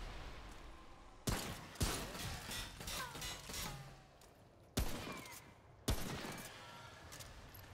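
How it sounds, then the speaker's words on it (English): Enemy gunfire in the video game Remnant: From the Ashes, four sharp loud shots spaced a second or more apart over rumbling game ambience, with faint talk in the background. "So they shoot me from far off, huh?"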